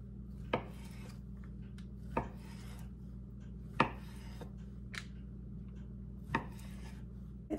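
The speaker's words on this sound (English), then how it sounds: "Now I'm going to cut that up into chunks" A knife chopping fully cooked meat into chunks for a sheet pan dinner, with about six sharp, separate cuts against a board, spaced a second or more apart over a faint steady hum.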